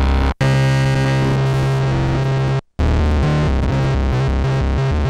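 Arturia MiniBrute analog monophonic synthesizer with its Brute Factor feedback saturation pushed up, playing a loud, harsh, gritty sequence of buzzing notes with two brief dropouts, then a rhythmic bass pattern continuing alone.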